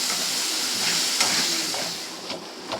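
Spice masala cooked down in a pan with sour yogurt gives off a steady, close hiss of sizzling and steam, with a few soft clicks of stirring.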